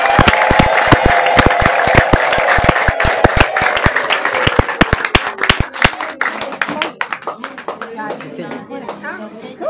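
A church congregation claps loudly in quick, rhythmic unison, with cheering voices mixed in. The clapping thins out after several seconds as voices take over.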